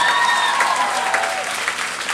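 Concert crowd applauding at a hip-hop show, a dense burst of clapping close to the stage, with a few whistles in the opening second, continuing steadily for the whole moment.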